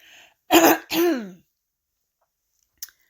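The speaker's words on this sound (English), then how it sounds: "Let me clear my throat again." Two short, forceful throat clears in quick succession, close and loud, followed by silence and a tiny faint click.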